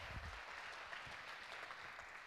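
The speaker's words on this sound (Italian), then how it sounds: "e qui ci vuole un grande applauso per l'atleta capitano Benedetti Emiliano" Applause for a team captain being introduced at a raffa bocce match, a faint, steady patter of clapping heard from a distance throughout, with no talk over it.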